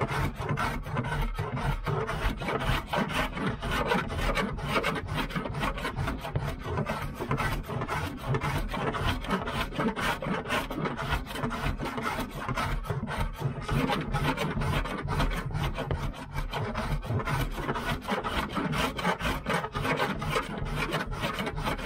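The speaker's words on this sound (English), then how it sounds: "got my cheese grater here. And we'll just" A cheese grater body file rasps down body filler on a 1994 GMC Stepside pickup roof in steady, rapid back-and-forth strokes, close and loud, with no talking.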